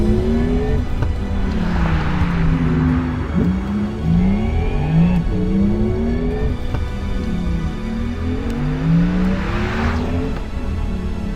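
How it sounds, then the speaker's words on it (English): Porsche Taycan GTS electric car driving, a smooth whirring drive tone with rising and falling pitch sweeps as it speeds up and slows down, steady and fairly loud over about eleven seconds, with no talking. "We drove the Taycan GTS on both road and track for this vid"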